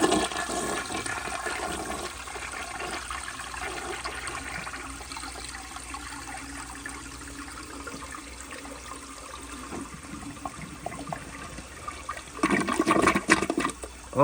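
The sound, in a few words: 1970 American Standard Cadet toilet with bedpan lugs flushing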